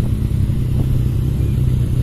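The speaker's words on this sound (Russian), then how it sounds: "мотоциклисты" A group of Yamaha motorcycles rides past as a steady, loud low engine rumble that holds throughout without clear revving peaks.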